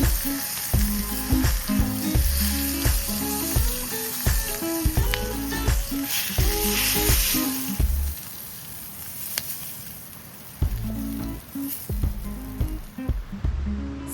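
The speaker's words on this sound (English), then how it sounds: "Cooking over the fire always looks incredible on camera" Steak sizzling over a campfire, loud close crackling and spitting broken by rhythmic heavy thumps and scrapes, with a quieter stretch in the middle before the pounding returns.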